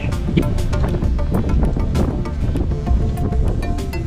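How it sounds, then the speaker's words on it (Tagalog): Strong mountain wind on Mount Baruyen in Abra, Philippines, buffets loudly and continuously, a rough roaring rush with gusty bursts and no speech. "Napakalakas ng hangin, parang tatakay."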